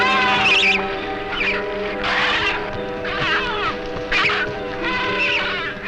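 Adelie penguins in Antarctica panic at a leopard seal hiding in thawing ice, a flock giving repeated harsh, honking squawks in overlapping bursts, fairly close and loud against a steady background drone.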